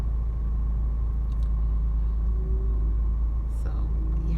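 A car cruising along the road, heard from inside the cabin as a steady, loud low rumble of engine and road noise that holds without a break.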